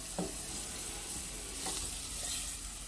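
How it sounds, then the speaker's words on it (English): Onions sautéing in a pan with thyme and black pepper for a Nigerian meat pie filling, giving a steady close sizzle with a few brief stirring scrapes and no talk. "now I'm sauteing the onions with thyme and black pepper"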